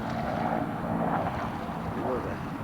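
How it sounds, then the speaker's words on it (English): A helicopter passes over a river where people are fishing for crawdads, making a steady, muffled rotor drone in the background while a person talks over it. "There was a helicopter over."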